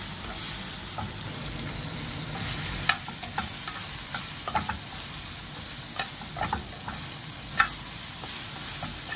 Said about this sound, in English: I definitely got to saute up some onions.